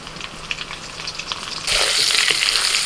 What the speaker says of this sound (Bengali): ওই মাছ ভাজা তেলের মধ্যে আমি আলুটাও ভেজে নিচ্ছি